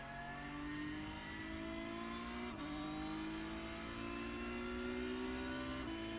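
A Porsche Cup race car in the iRacing sim accelerates hard at Le Mans, its engine note climbing steadily in a loud continuous whine with brief dips at two gear changes.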